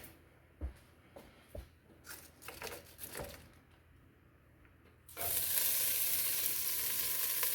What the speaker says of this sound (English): If it starts to sizzle, that's okay